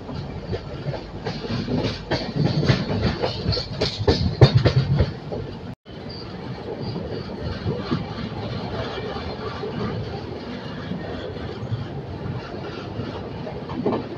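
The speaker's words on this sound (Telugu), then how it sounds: "వికారాబాద్ ప్లాట్ఫామ్ నెంబర్ 1లో మన ట్రైన్ ఆగుతుంది." The Shatabdi Express, train 12025, slows into platform 1 at Vikarabad Junction, heard from inside as rumbling wheels and clattering carriages, loudest early, then a brief dropout and a quieter steady rolling hum.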